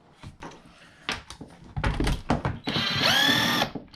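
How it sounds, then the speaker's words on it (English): Screws being backed out of the old A-arm of a Traxxas E-Revo RC car with a 2.5 mm Allen driver: a few short, close whirring bursts with small clicks and rattles, ending in a louder sustained buzz. "Unscrew them, and you can see it just unscrews it right out of the old A-arm there."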